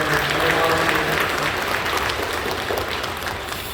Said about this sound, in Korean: 박수해 주셔서 고맙습니다